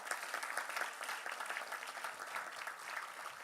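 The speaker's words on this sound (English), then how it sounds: "Can we please give a round of applause for yourself?" Audience at a community volunteer gratitude event claps steadily, a dense even applause sustained close by for several seconds with no talk over it.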